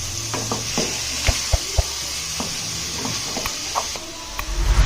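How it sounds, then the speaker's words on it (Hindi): Pumpkin, or kasi phal, being stirred into sizzling masala in a pan: steady frying hiss with intermittent spoon scrapes and taps against the pan, close and clear, with no speech. "तो कासी फल ऐड करके हम इसे मिक्स करेंगे अच्छे से, पूरे मसाले के अंदर अच्छे से इसे मिक्स करेंगे।"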